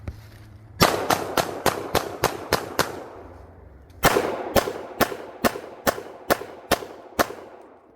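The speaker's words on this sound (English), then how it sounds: "we're going to do a little training and some shooting on this dummy from Vtact and see how it functions" Gunshots are fired at a Vtact 3D tactical target dummy in two quick strings of about seven and nine sharp reports each, evenly paced and loud, with a short pause between strings.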